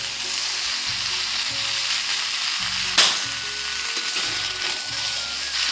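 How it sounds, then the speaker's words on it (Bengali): Chowmein being stirred and fried in an electric kadai cooker gives a steady, close sizzle throughout, with a sharp scraping clatter of the utensil near the middle. "এই আমার চাউমিনটা ঢালা হয়ে গেছে, এখন এটা নাড়াচাড়া করে লবণটা টেস্ট করে"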